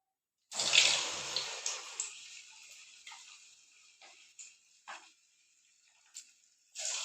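Small drops of sweet jaggery bonda batter land in hot oil, setting off a loud hissing sizzle that gradually fades, followed by a few short bursts of bubbling as more batter goes in, with no talking.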